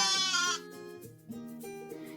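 Goat bleats with a wavering, nasal call up close, followed by quieter tonal sounds.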